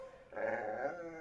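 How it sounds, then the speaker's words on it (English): A dog gives a low, rumbling growl that swells after a brief quieter lead-in and holds steady for about a second, close and moderately loud with no talking. "My dog."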